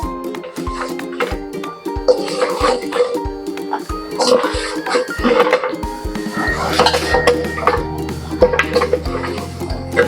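Steel bowls clink and tap in a steady rhythm as cut raw mango pieces are measured out for mango pickle, with people talking over the clatter close by.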